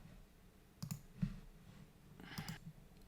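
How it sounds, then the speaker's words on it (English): A computer mouse clicks a few times, quiet and close, with a double click near the start and another pair near the end over a faint room hum. "So if we click on"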